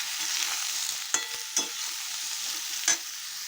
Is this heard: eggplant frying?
yes